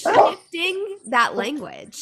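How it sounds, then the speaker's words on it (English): A dog at home barks and yips several times in short bursts, mixed in with a person talking over it. "If you hear my dog barking,"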